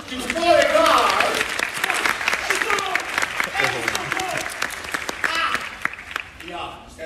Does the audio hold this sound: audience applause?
yes